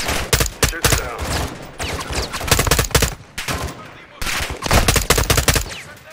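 Rapid gunfire in Call of Duty: Modern Warfare 2 comes in dense bursts separated by brief pauses. The shots are loud and close, with a faint voice beneath them.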